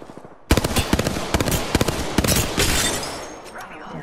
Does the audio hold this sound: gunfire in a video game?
yes